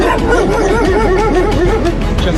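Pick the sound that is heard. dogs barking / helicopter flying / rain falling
dogs barking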